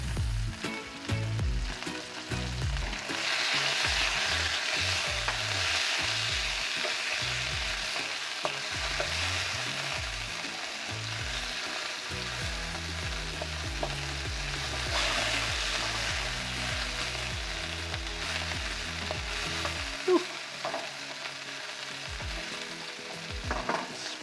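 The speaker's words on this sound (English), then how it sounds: "Best not to let it move around the pan too much at first, because it tends to stew rather than sear the meat." Chicken searing in a frying pan, a steady close sizzle and crackle with occasional spits and faint stirring, continuous for over twenty seconds with a low rhythmic hum underneath and no speech.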